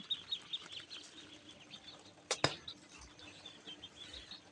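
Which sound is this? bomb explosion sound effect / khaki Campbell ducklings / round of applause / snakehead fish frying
khaki Campbell ducklings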